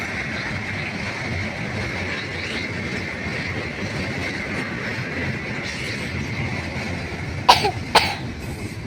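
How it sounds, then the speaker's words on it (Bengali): A person coughs in two quick, sharp bursts near the end, against a steady outdoor hum near Paksey railway station and the Hardinge Bridge in Pabna, Bangladesh. "কাশি হয়েছে বলে কথা বলতে পারছে না"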